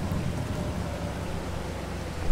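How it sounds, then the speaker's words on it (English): Steady rain in the Farming Simulator 22 farm game: a dense, even hiss and patter with a low rumbling undertone, close and continuous, and no voices over it. "Let's see when this rain's going to stop as well."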